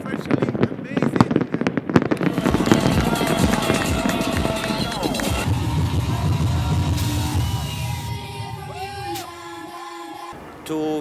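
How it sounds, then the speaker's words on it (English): A New Year's Eve fireworks display in Ras Al Khaimah, a record-setting straight-line show at Marjan by Grucci, crackles and pops in dense rapid bursts, loud and busy, with a cheering crowd and raised voices mixed in. "the longest straight line firework display"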